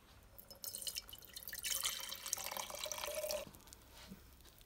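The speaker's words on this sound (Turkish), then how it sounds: "Şimdi bunun suyunu süzüp nemli halde bekleteceğiz şöyle." Soaking water being strained out of a container pours and trickles in a splashy burst that swells, holds for a couple of seconds, then cuts off into faint drips.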